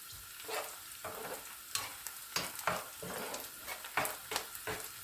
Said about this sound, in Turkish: Birazcık da salçayla kavrulsun.